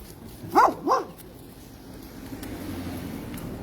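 A dog gives two quick, loud barks close by, followed by quieter outdoor background noise during a morning walk in Brisbane, Australia.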